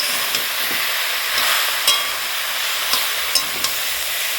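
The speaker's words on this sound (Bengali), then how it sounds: "নুন দিয়ে এখন এটাকে সুন্দর করে কিছুক্ষণ ধরে একটু ভেজে তারপরে দিয়ে দেবো গুড়" Jujubes fry with salt in a pan for pickle, a loud, dense hiss of sizzling with a few sharp clicks and scrapes from stirring, close and continuous.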